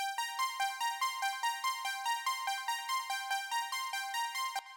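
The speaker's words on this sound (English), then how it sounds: "Then there's this arp," A bright, plucky synth arpeggio from an Arturia Jupiter-8 recreation cycles through rapid repeating notes in a steady, even rhythm, clear and alone at moderate volume.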